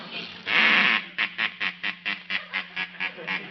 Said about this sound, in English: A mechanical duck must be kept in motion at all times.